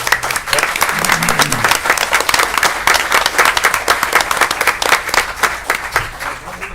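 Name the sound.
audience applause for police and fire department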